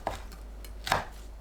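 A knife slices through fish cakes on a cutting board in a home kitchen, two crisp, separate chopping taps, close and clear with no talk.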